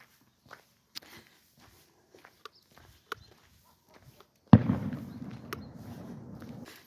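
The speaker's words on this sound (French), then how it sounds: "c'était clairement des coups de feu" A single sharp report from a distant hunting gunshot in the Andalusian countryside cracks out after several faint scattered clicks, then trails into a long rumbling decay across open ground.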